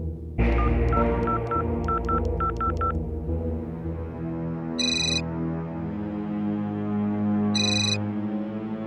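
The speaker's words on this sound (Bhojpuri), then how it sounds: "बड़े पापा का फोन हुई, उठा ली।" A telephone rings twice in short electronic bursts, a few seconds apart, after a quick run of dialing tones, with music playing underneath.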